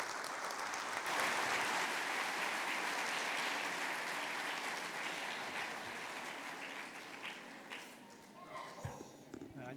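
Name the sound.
applause welcoming the pastor and translator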